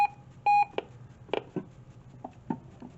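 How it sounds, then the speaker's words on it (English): A weather radio gives short, sharp electronic alert beeps, two quick tones right at the start, followed by quieter clicks and handling sounds. "And of course the beep."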